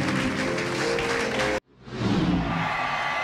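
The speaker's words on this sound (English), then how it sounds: "Clap hands to Jesus." Church congregation at a Friday prayer service in Yaoundé, Cameroon, clapping hands together in steady dense rhythm, loud and close, breaking off briefly before resuming.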